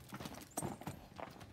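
A quarter horse gelding, a seven-year-old paint, walks in an auction ring, its hooves giving a few soft, uneven clip-clops, faint and close with little else around.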